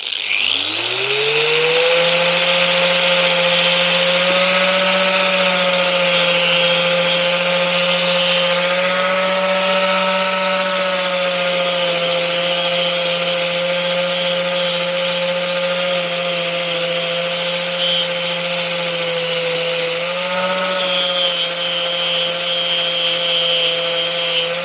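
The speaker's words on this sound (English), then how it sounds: "I'm just going to use the spinning wire brush and just gently go over it" A spinning wire brush, driven by a power tool, works over the exhaust pipe of a 1974 Piaggio Vespa Ciao moped. A loud, steady motor whine spins up at the start and holds throughout, with a gritty scraping texture running beneath it.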